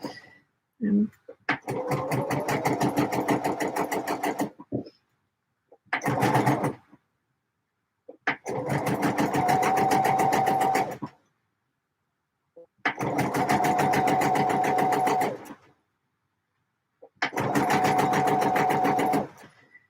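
Domestic sewing machine stitching a D&G shirt, running in five bursts of steady whirring, each a few seconds long, separated by short pauses, close and fairly loud with no talk.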